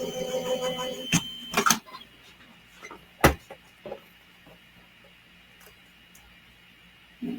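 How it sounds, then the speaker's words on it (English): Paper sentiment die with a stitched edge being cut in a die-cutting machine: a close grinding, rolling crank with sharp clicks and snaps at intervals, then quieter handling noises. "I'm going to cut this out."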